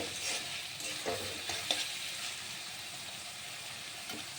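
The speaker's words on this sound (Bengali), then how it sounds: "দিয়ে এটা আমি ভালো করে নাড়ব।" A spoon stirs bay leaf and garlic ground with dried red chili in a hot pan, producing a steady close sizzle with light scraping touches throughout.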